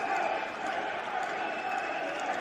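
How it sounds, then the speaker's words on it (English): Bridgend rugby supporters cheer from the far side of the ground during a Cardiff v Bridgend match, a steady, distant crowd roar that stays even throughout. "A lot of Bridgend fans on the far side cheering them on there."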